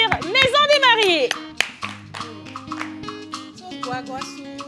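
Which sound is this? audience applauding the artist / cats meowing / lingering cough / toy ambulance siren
audience applauding the artist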